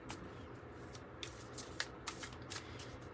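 A deck of Cosmos Oracle cards is shuffled close by, producing soft papery riffles and flicks in uneven bursts over a quiet room hiss.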